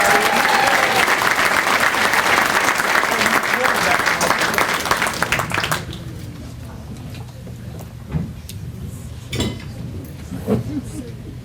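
Banquet audience applauding a Hall of Fame inductee at a sports awards dinner, a loud sustained wave of clapping for about six seconds that then drops away to quieter room noise with scattered thumps.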